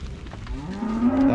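A cow in a herd of cattle lets out a single close, loud moo that rises and swells over about a second, with no talk in the clip.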